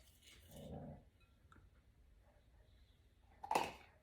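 Sleeping dog growling softly in a kitchen, a faint low rumble early on, then quiet, and a sharper brief vocal burst near the end.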